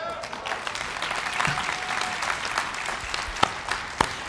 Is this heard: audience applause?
yes